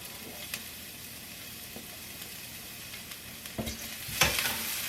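Garlic sautéing in a hot pan gives a steady, close sizzling hiss, broken by a few sharp utensil clinks and scrapes near the end, with no talking.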